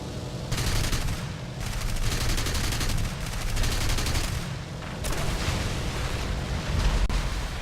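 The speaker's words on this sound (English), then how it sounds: "30 and 20mm machine guns, cannons" Rapid, continuous bursts of 30mm and 20mm aircraft cannon and machine-gun fire in War Thunder, loud and rattling, in repeated volleys with short pauses between.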